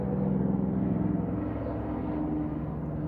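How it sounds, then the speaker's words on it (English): A helicopter passes overhead outdoors, heard as a steady low rotor and engine drone with regular pulsing, moderately loud and alone for about three seconds. "My helicopter's just passing by up there."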